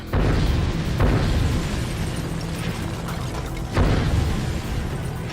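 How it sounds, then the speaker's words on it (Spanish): An explosive charge detonates and shatters a solid table, giving a loud, roaring blast that stays dense and turbulent, with fresh bursts near the start and again a few seconds later. "La explosión hace añicos la mesa maciza."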